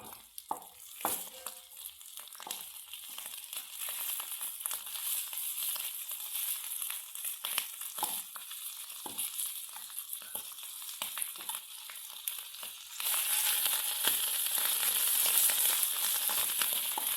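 Dried sardines frying in a small amount of hot oil, a steady close crackling sizzle with sharp pops, growing louder and brighter near the end.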